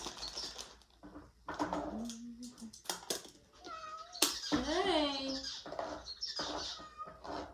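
A house cat in a kitchen meows several times, near and loud, with drawn-out rising and falling calls, while a person speaks briefly between them.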